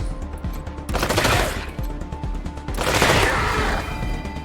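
Gunfire from a combat encounter in the game Wasteland 3 comes as two loud bursts of rapid shots, each lasting about a second and a half, over a steady low background.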